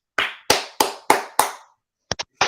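Someone clapping, five sharp, evenly spaced claps close by, followed after a pause by a few quicker, lighter taps, with no voices.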